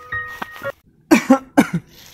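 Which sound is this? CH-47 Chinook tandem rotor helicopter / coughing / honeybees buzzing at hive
coughing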